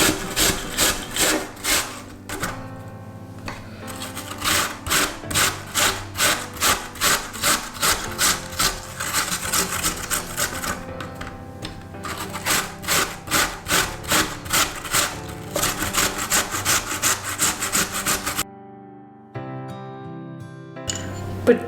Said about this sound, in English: So the next thing now is to grate it. I'm going to use this grater because it's a bit bigger on this side.